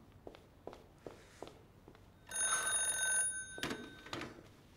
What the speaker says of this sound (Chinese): 啊，我先接电话。